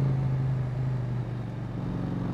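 Motorcycle engine idling steadily, fitted with a refitted catalytic converter and an aftermarket silencer, on a ride up the Col du Galibier; a continuous close, loud low hum with no talk.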